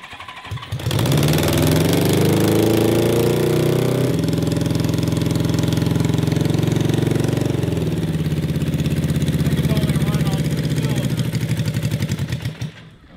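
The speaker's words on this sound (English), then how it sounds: "I think it's only running on two cylinders." A 550cc engine fitted in a Cozy Coupe runs roughly on only two cylinders, a loud, close, continuous uneven idle with lumpy pulsing and shifts in pitch that lasts nearly the whole stretch before dropping away.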